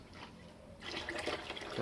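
Fluid draining from a Ford 302 Cleveland engine during teardown, first a faint trickle, then a louder splashing pour of liquid starting partway through and continuing steadily, with no talk.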